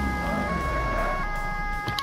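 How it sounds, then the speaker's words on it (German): Police car siren in the Autobahn-Polizei Simulator 2 game, a steady sustained wail with engine rumble underneath, moderately loud and continuous, no speech. "Und die Sirene muss ich noch ausschalten."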